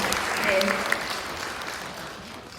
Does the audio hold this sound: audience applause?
yes